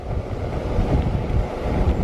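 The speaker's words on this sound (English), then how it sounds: "Now it is quite windy" Steady outdoor wind rushing and buffeting across the microphone beside a burning MSR WindBurner camp stove, a continuous low roar with gusty fluctuations and no voices.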